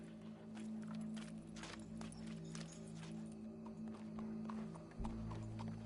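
Hooves of a horse clop at a walking pace in Red Dead Redemption 2, soft, quiet thuds spread over several seconds above a steady low hum of game ambience.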